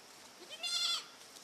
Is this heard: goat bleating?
yes